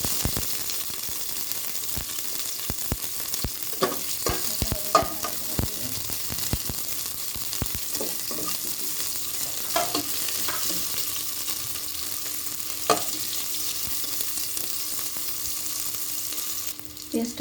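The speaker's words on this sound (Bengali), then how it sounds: "পেঁয়াজটা হালকা ভাজা হয়ে গেছে," Chopped onion sizzles steadily in a little hot oil, with intermittent scrapes and clinks of a spatula stirring the pan up close; no talking, just continuous frying hiss with sharper stirring knocks throughout.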